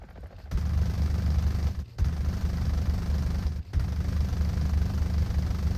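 Sustained rapid fire from a helicopter's dual cannon in a video game roars loudly and continuously, broken by two brief gaps, with a dense low rumble throughout; no voices.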